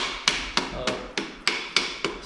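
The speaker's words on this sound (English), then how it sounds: "you use a rubber or wood hammer" A rubber or wood hammer taps a cylinder sleeve on a budget Chevy 350 engine, squaring it in its bore: seven sharp, evenly spaced knocks, close and moderately loud, with no talk.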